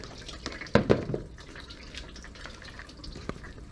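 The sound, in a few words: radiator coolant dripping after drain plug came off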